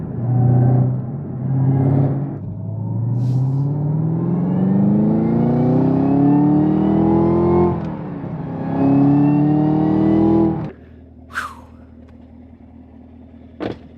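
A 2017 Chevrolet Camaro ZL1 engine revving close by, several long rising pulls with deep harmonic sweeps, rather muted, then dropping off to a low idle with a couple of brief clicks near the end.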